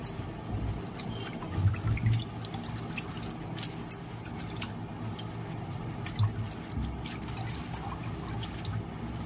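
Mutton is washed under running water in a home kitchen, a steady trickle and splash with scattered drips and small knocks, moderately near.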